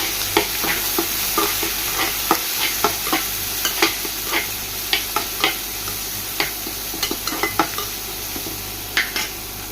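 Onion and green chilli sauté in a pan for a chicken pasta, with a continuous sizzle under frequent sharp scrapes and taps of a spoon against the metal pan, close and fairly loud.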